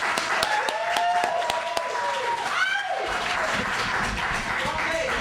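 Audience applause for a poet at a poetry reading in a library branch, with scattered sharp claps blending into a crowd and voices speaking over it.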